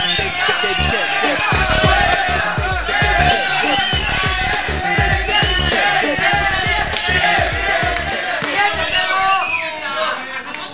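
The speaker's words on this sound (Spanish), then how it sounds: "Un aplauso para ella" A studio audience cheers and shouts as a guest is welcomed onto a talk show set, a dense, loud crowd roar of whoops and babble running steadily throughout.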